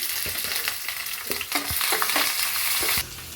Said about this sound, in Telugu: కొంచెం ఫ్రై అవ్వాలి ఆనియన్స్ పచ్చిమిరపకాయలు యాడ్ చేసుకున్నాము